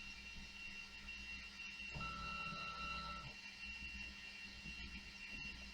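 A 3018 CNC Pro desktop machine runs a macro, giving a quiet steady mechanical hum with a brief higher whine from stepper motors in the middle, heard alone.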